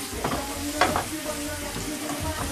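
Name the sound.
herbs being mixed into frying mackerel, brown rice and vegetables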